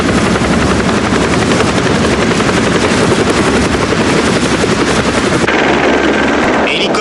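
A news helicopter hovers overhead during a rescue, its rotor chopping in a loud, fast, continuous thump that dominates throughout, with voices talking under the noise.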